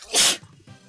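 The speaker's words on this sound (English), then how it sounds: "I just sneezed all over my microphone" A single sharp, forceful sneeze blasted straight into a microphone, very close and loud, then quickly fading into near silence.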